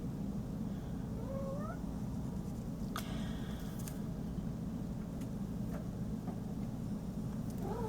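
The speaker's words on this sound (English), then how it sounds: "My cat's begging me to get out of the bedroom." A house cat meows twice from another room of a home, faint short rising calls over a steady low hum, with a few light knocks and taps nearby.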